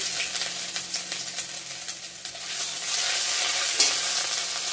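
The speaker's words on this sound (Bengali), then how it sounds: "পাঁচ ফোড়ন দিয়ে দিলাম চলে আসছে থেতো করা আদাটা দিয়ে দিলাম" Panch phoron and crushed ginger sizzle in hot oil in a pan, a loud, close crackling hiss with repeated stirring scrapes, intensifying over the last couple of seconds.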